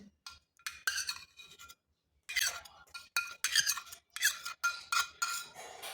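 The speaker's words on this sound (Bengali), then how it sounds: "এখন খুব ভালোভাবে মাখিয়ে নিতে হবে" Soaked mustard paste is mashed by hand into a vegetarian flat-bean bharta, making a series of close, wet, squelchy clicking bursts in an irregular rhythm, with no voices.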